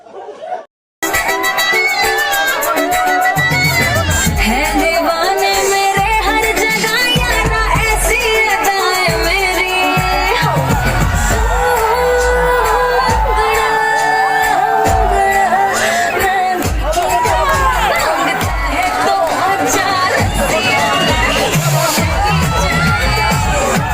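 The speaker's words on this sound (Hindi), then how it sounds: "ओहो भारी भीड़ है रे।" A large crowd packs a busy village fair, with dense babble, chatter and occasional shouts filling the air loudly and without pause, and nearer voices talking over the din.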